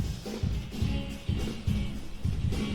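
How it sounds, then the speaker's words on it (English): Unprocessed drum room microphone recording from a full song mix, with repeated low, boomy drum hits every half second or so and a washy ambient ring filling the space between them. "This is the drum room sound without any plugin."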